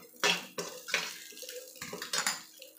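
A spoon stirring red chili powder into egg rice in a pan, a few separate scrapes and clinks of metal against the pan, close and fairly quiet.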